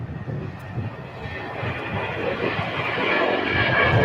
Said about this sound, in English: Emirates coming in from Dubai, pulling into Tom Bradley.